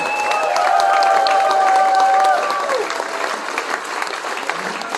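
A crowd at a charity kids festival in Gommersheim gives dense, continuous applause, thanking the first responders. Some cheering and whistle-like tones rise over the clapping early on before it settles into steadier clapping.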